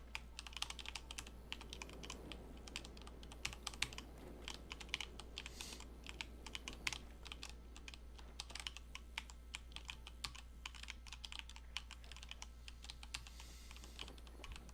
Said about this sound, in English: Probably move my mic away from all my keyboard.